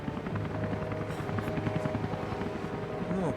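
A helicopter in the video game Rise of the Tomb Raider drones steadily with a rapid, throbbing rotor beat and engine hum, holding close and loud throughout.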